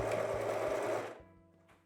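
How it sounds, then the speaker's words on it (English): A sewing machine stitches a hoodie in a short, steady motor run that holds level for about a second, then slows and fades to a faint whir as it stops. "And then start sewing it."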